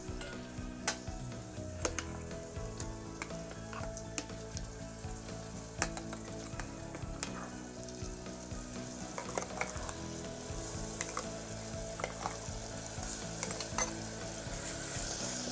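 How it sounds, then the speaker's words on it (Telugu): Ground tomato paste with turmeric and salt frying in a pan, a soft continuous sizzle close by, broken by frequent spoon scrapes and clinks against the metal as it is stirred. "టమాటా పచ్చివాసన పోయే వరకు వేయించుకుందాము."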